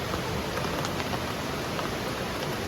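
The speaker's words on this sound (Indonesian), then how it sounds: "Yang terdengar di sini hanya suara hujan dan suara" Steady rain falls at a family campsite in Bedengan, Malang, with a nearby river running beneath it, forming a continuous even hiss with faint scattered drop patter and no voices.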